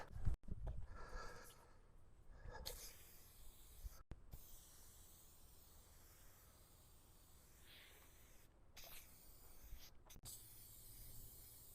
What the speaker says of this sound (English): get a little bit of a spray on this to get this in its finished stage